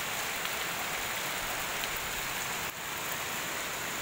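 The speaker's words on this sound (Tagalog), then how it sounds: "Lakas kasi ng ulan" Heavy rain falls steadily around a house with a raised shelter below, an unbroken close hiss of downpour with no voices.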